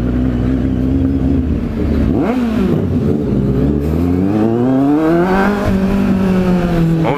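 A Kawasaki Z800 motorcycle is ridden through the small town of Sertanópolis, its engine revving up and down repeatedly, loud and close throughout with rising and falling pitch sweeps.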